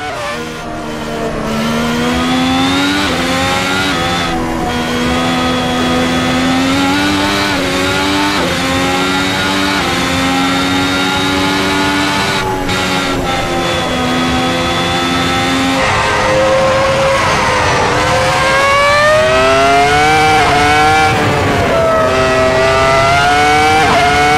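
A Ferrari F2004 Formula One engine in the video game Assetto Corsa screams continuously, revving up and down through gear shifts with a sharp, whining tone, loud and close throughout.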